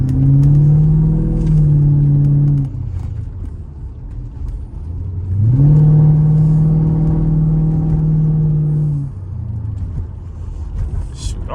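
Exhaust of a Mercedes SL500 on a wet road, heard from inside as a deep, loud engine drone that swells under acceleration, eases off, then surges again in a second strong pull.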